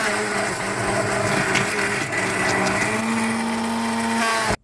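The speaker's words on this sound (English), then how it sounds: "we're not going to be able to get this completely and utterly smooth with a stick blender" A stick blender whirs steadily through soup, close and loud, its motor pitch shifting slightly before it cuts off abruptly at the end.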